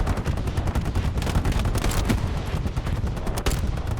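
Machine-gun fire in the World War II shooter Hell Let Loose rattles in rapid, continuous bursts, loud and close, with sharp shot peaks throughout.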